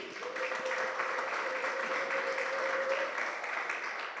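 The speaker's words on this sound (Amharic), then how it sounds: "ለጌታ እልልታ ጭብጨባ ስጡልኝ" A church congregation applauds for the Lord, giving sustained, even clapping at a moderate distance with a faint high ululating tone running through it.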